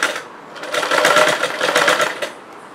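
A sewing machine stitches a chudidar seam, its fast, steady motor hum running close and loud with a slight rise and fall in speed across the run, and no talk over it.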